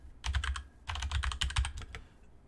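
Fingers type on a computer keyboard in quick, uneven bursts of close clicking keystrokes with a low thumping underneath and no voices.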